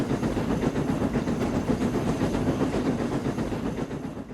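Steam locomotive chuffing in the Trainz video game, a continuous rhythmic puffing and rumble that stays loud and steady throughout, with no voices.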